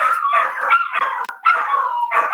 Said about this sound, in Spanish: Oh, estos perritos.